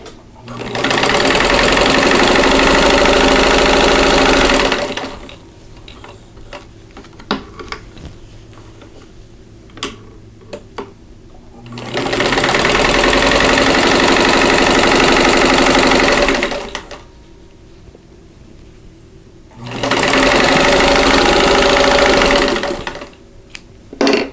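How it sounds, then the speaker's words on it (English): A sewing machine stitching quilt fabric for a quilt block runs in three loud, steady bursts of rapid mechanical whirring and clatter. Quiet gaps come between the bursts, with small handling clicks and rustles close by. "I am going to sew a 1/4 inch away from that drawn line on both sides."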